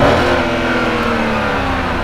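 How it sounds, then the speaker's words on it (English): A naturally aspirated V8 engine on a luxury car holds a loud, sustained rev that stays steady and close for about two seconds with no talking over it. "One more time, one more rev for the boys and girls."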